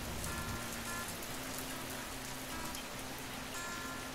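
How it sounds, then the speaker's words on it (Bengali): Heavy rain pours down steadily at a home in Bengal after days of heat, a dense, continuous hiss that stays even throughout with a faint low hum beneath and no voices. "বাড়ি আসার পরপরই শুরু হয়েছে ঝমঝমিয়ে বৃষ্টি"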